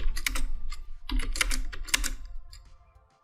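Quick bursts of typing on a computer keyboard, clustered keystrokes clacking close and steady, then tapering off into quiet.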